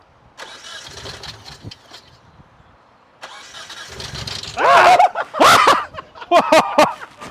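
The KNIGHT 4000 car's engine cranks with a grinding starter whir, pauses, cranks again, then catches with loud rising revs and uneven bursts, close and dominant.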